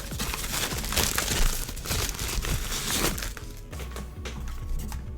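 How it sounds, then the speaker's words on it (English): Close, loud crinkling and rustling of foam wrapping paper pulled from a PlayStation 5 DualSense charging station box, continuous crackling handling that eases slightly toward the end. "Foam wrapping paper."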